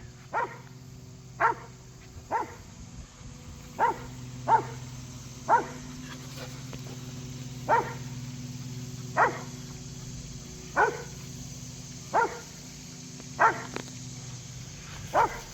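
A dog barks in single, evenly spaced woofs, about a dozen over a low steady background hum, moderately near.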